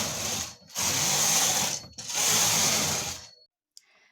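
A knitting machine carriage set to tension 6 sweeps twice across the needle bed, each pass a loud, steady mechanical rasp with a brief gap between, then a small click and quiet.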